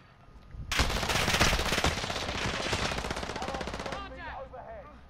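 Loud machine-gun bursts erupt in Call of Duty: Modern Warfare Warzone, a rapid rattling stream of shots lasting about three seconds before cutting off into quieter game sounds.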